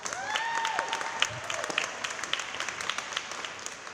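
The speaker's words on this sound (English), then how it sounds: "Let's give them a round of applause." An audience at an International Women's Day event breaks into applause that sounds moderately close and thins gradually over a few seconds, with faint voices and cheers mixed in.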